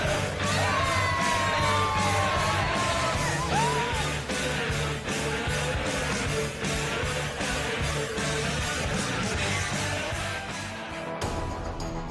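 A big crowd at the Unibet Darts Masters first round in Milton Keynes roars steadily for several seconds, with yells, whoops and whistles layered over dense cheering that eases slightly near the end.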